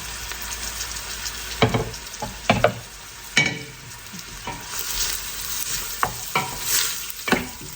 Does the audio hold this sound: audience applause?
no